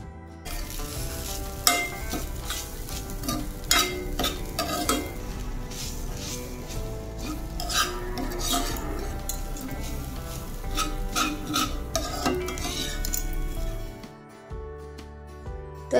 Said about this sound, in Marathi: तर कढईमध्ये 1 चमचा तूप टाकलं आणि त्यात नारळाचा चव टाकलेला आहे।